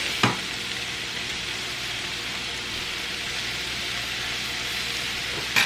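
Minced beef frying in a pan with a little salt, a steady close sizzle and crackle that continues evenly throughout, with a couple of brief clacks from a spatula.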